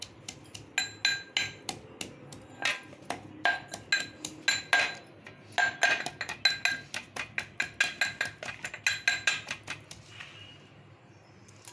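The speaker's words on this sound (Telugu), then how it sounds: "వెల్లుల్లి దంచుకున్నాను" Garlic cloves pounded coarsely by hand, a close run of sharp, ringing strikes in a steady rhythm, several dozen blows with brief pauses, ending in a few softer knocks, with no talking.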